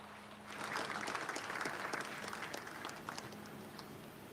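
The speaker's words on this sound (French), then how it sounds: "L'on peut applaudir, Mesdames et Messieurs." An audience at the investiture of Ivorian President Alassane Ouattara applauds, a faint, distant, sustained patter of many hands that swells after a quiet start and then holds steady.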